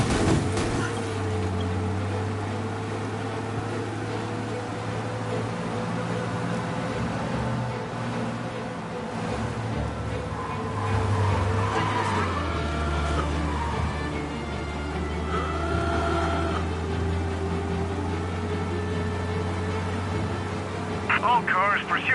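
A car in a console video game races to escape a police pursuit, its engine drone running steadily throughout, with someone talking over it.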